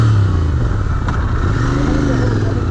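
Motorcycle engine labouring at high altitude on a Spiti valley road near Kaza, a steady low drone running throughout with faint voices mixed in.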